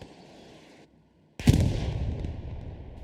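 Artillery fire in the WWII shooter Hell Let Loose, shelling armor near a city strong point: a brief lull, then a loud, close blast that rolls into a long, rumbling barrage of booms.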